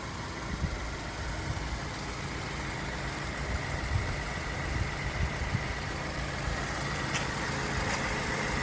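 Steady, low rumbling idle of a BMW E87 116i 2.0 122 hp engine with a constant mechanical drone and slight vibration, even throughout, no voices.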